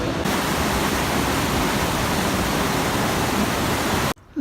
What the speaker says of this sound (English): We are at the top of the falls. That's the waterfall right there.